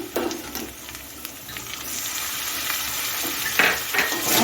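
Fried potatoes and small pieces of prawn go into a hot pan for a kakrol stuffing, setting off a loud, steady sizzle with brief stirring scrapes, close up and with no talking.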